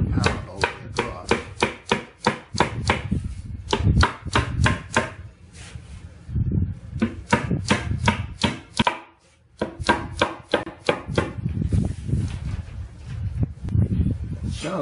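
Repeated pounding on a window channel of a 1964-66 Chevy C-10 truck, bursts of rapid sharp knocks separated by brief pauses, close and loud.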